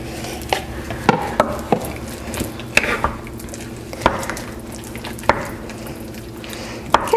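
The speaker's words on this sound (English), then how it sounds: "So you're just going to stir that up and let it sit in there until it starts to simmer" A spoon stirring black beans heating in a pan on the stove, with irregular scraping clicks and knocks over a steady low sizzle, close and moderately loud, no talking.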